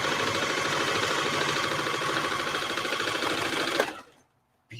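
Sewing machine stitching a mock-up garment: a steady, fast mechanical whirring and clatter that runs continuously, then stops abruptly near the end, leaving near silence.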